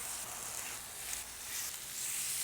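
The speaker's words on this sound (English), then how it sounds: "You can hear that sizzle." A continuous crackling sizzle of boneless, skinless chicken thighs on a hot griddle, close and steady, with no talking.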